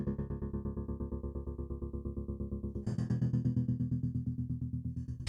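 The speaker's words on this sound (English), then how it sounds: "the H9's trem verb, which is essentially tremolo and reverb, and it sounds like this." A guitar processed with an H9 tremolo and reverb effect plays sustained low chords that pulse in a fast, even throb, with a change of chord midway and a washy tail, heard alone.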